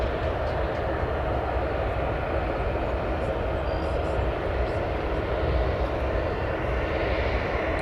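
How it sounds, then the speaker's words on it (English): A long-haul airliner roars down runway 10 Left at O'Hare on its takeoff roll, a loud, sustained broadband jet rumble heard from nearby without letup. "Very much expect him to depart full length on 10 left."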